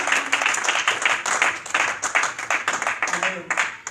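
A church congregation claps together during a Spanish-language service, producing a dense, continuous patter of hands at moderate loudness, with voices mixed in underneath.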